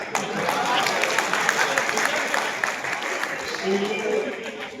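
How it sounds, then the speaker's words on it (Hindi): An audience at a mushaira poetry gathering in Sangareddy breaks into steady, dense applause lasting several seconds, loud and continuous with scattered individual claps standing out. "तालियां"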